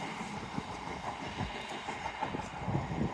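A train rolls under the Sonning Road Overbridge in the UK, a steady near rumble with faint clattering wheel knocks over its full length and no talk.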